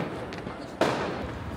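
A single firework bursts at about the midpoint during New Year's celebrations in Budapest, a sharp, moderately distant pop over a low crowd and ambient murmur.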